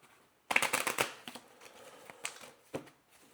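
Cards riffled and shuffled by hand during a game of Earthborne Rangers, a close series of quick crisp flutters and taps that ends in a couple of softer snaps, with no voices.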